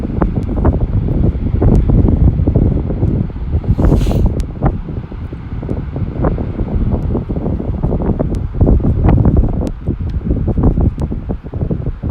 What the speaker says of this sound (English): See how windy it is with the offshore.